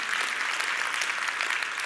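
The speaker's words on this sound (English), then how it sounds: "Give them a round of applause," Dense, steady round of applause from a conference audience at a talk event, sustained and evenly loud with no voices over it.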